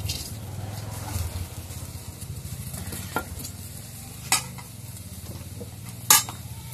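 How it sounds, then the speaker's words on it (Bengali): Onions frying in a wok while being stirred, a low steady sizzle under repeated scraping strokes and a few sharp clanks of a spatula against the metal. "এখন পেঁয়াজটা কড়াইয়ের মধ্যে দিই।"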